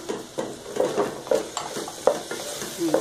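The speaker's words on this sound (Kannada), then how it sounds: "ಚೆನ್ನಾಗಿ ಮಿಕ್ಸ್ ಮಾಡ್ಕೋಬೇಕು ಇದನ್ನು." Vermicelli upma with tempering stirred in a pan: rhythmic scraping strokes of a spoon against the metal over a light sizzle, close and fairly loud.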